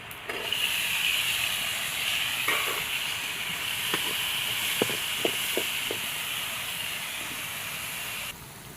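Fenugreek, fennel, cumin and coconut pieces sizzle in a hot pan as a steady hiss that stops abruptly near the end. A few soft clicks and taps sound over it, with no voices.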